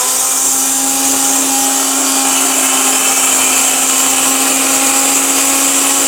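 An electric blender grinds cumin seeds with a loud, steady high-pitched motor whine and constant rattling hum, running without pause at close range.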